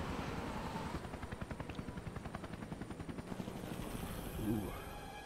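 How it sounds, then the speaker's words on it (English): A helicopter in the video game Resident Evil Revelations gives a loud, steady rotor chop, its rapid blade pulses running throughout, with a brief voice near the end. "Oh, I didn't know we were in the helicopter already."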